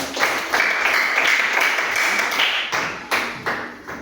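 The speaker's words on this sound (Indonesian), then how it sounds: "Tepuk tangan buat kelompok yang nomor 3 tadi." Classroom students clap for a student group after a lesson presentation. A steady burst of close clapping runs for about three seconds, then thins into a few scattered claps.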